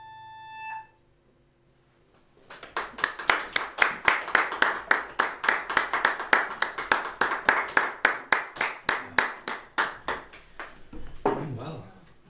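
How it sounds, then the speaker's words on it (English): A small audience at a live poetry reading claps briskly and closely after a brief tone and silence, the sharp claps building into a dense, lively burst before fading out as a voice returns at the end. "That was tumultuous applause."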